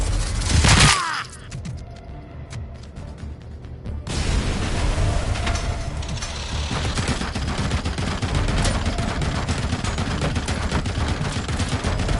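A Gatling gun firing in a video game, opening with a sharp burst and then settling into a long, steady stream of rapid, dense gunfire that runs loud and unbroken to the end.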